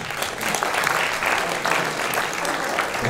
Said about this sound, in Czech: Tak si můžete zatleskat.